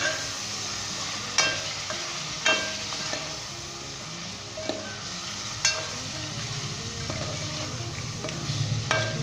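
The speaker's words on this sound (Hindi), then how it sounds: "स्पाइस डाल के मैंने अच्छे तरीके मिक्स कर लिया है।" Spices and chicken frying in a pan while being stirred for Pakistani chicken nihari, a steady sizzle with scattered spoon scrapes and clinks against the pan, close and moderately loud with no talking.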